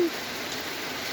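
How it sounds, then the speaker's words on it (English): Heavy rain pours down during a storm on Vancouver Island, a dense, even hiss of drops hitting surfaces that holds steady and fairly loud throughout, with no voices. "Gotta love that rain."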